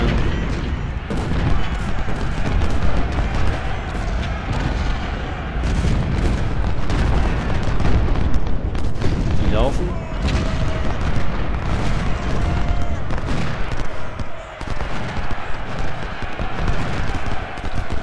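Cannon artillery in the Civil War strategy game Ultimate General: Civil War, with repeated heavy booms and rumbling volleys layered over continuous battle noise, loud and dense for the whole stretch.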